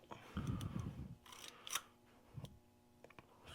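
Bolt being pulled from a Zenith ZF5-P rifle, giving a short metallic slide and scrape followed by a few light clicks and taps, close and fairly quiet, with no talking.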